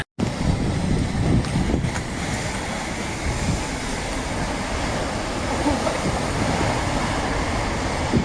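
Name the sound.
big ocean waves crashing on the coast in a storm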